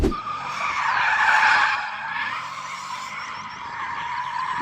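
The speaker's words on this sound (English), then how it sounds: "I need to warm my tyres like you just warmed yours" Tyres spin and squeal on a drag strip as a C8 Corvette or Ferrari 458 Speciale warms them before a race, a loud sustained screech that swells near the start and then eases under a steady engine drone.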